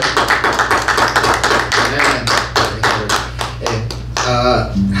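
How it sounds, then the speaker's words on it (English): A church congregation claps loudly and close, in quick uneven bursts over a low hum, ending in a brief sung or spoken voice. "You give the Lord a clap offering."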